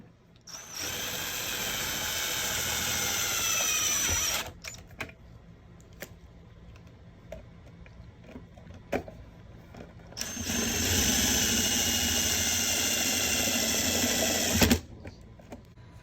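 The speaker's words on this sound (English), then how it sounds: "Attach the board cover using the supplied self-tapping screws." A power drill drives self-tapping screws into the board cover of a Dutch Aire dual compressor cooling unit on a NorCold 2118 RV refrigerator, two sustained whirring runs of about four seconds each, separated by quiet handling clicks.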